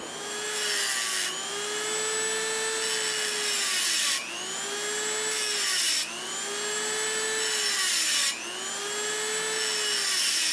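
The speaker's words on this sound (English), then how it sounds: "I've just gone over both sides and kind of randomly stippled it with a cutoff wheel on a Dremel" A Dremel with a cutoff wheel stipples the surface of a steel knife blade, a loud sustained high-pitched whine that rises and falls in pitch as the wheel bites, easing off and spinning back up about every two seconds.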